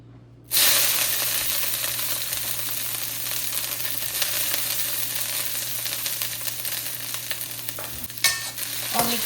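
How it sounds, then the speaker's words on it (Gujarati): Capsicum dropped into hot oil for Jain noodles bursts into a loud, steady sizzle that starts suddenly and keeps hissing close by, with a few scraping stirs near the end. "થોડુંક તેલ ગરમ થઈ જાય એટલે નાખીશું કેપ્સિકમ"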